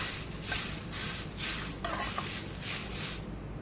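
Curry leaves sizzle and crackle in hot oil while a spoon scrapes and stirs the pan in steady rhythmic strokes.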